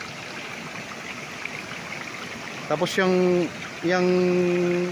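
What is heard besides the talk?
water falling from concrete irrigation channel beside river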